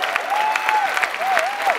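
Applause from an audience at a political event, with a sustained whistled tone gliding up and down over scattered claps, fairly close and moderately loud.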